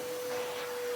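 A Hitachi CV790 cylinder vacuum cleaner runs with a steady, even whine and airflow rush, close and continuous for about a second with no voices.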